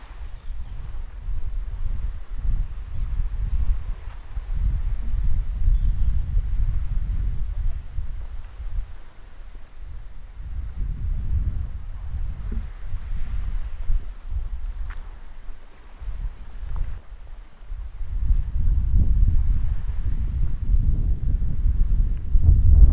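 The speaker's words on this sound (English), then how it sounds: "it's so windy, I know the audio is gonna turn bad." Strong wind at Pigeon Point Beach, Tobago, buffets the microphone with a constant low, roaring rumble that surges and eases for a long stretch, with no other clear sounds.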